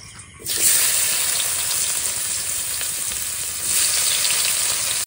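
Onions sizzle and fry loudly in oil for a light gravy for hilsa biryani, a steady close, bright crackle that briefly surges louder toward the end, with no talking.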